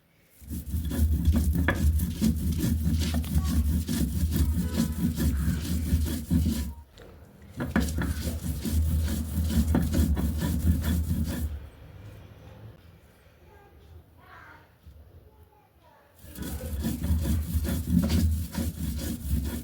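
Dried loitta fish is ground on a stone sil-nora slab, with long rhythmic rasping strokes of stone on stone, loud and close, broken by short pauses and a quieter stretch of lighter rubbing.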